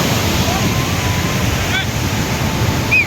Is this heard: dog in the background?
no